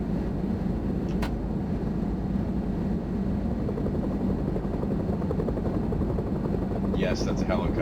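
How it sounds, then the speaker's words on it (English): A video game helicopter drones steadily with a low rotor rumble throughout, with a brief higher sound near the end. "Yes, that's a helicopter."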